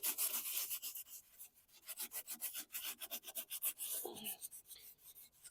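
A rag rubs gasoline over sticky Toro sticker glue residue on a lawn mower deck, giving rapid rhythmic scrubbing strokes, close and fairly quiet, with no talking.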